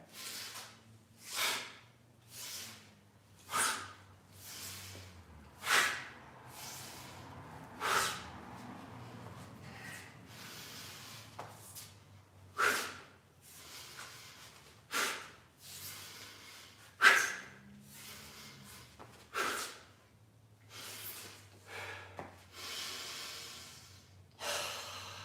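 Forceful breaths during iron staff martial arts training, a steady series of sharp nasal exhalations and snorts about every two seconds, close and clear over a quiet room.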